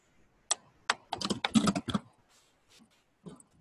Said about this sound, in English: Then all you'll do is type in your headline.